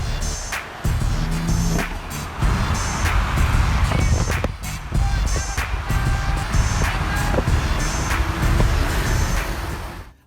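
A BMW M4 driven on a road, with an engine hum and road noise under repeated clicks and knocks, fairly loud and close throughout, ending abruptly.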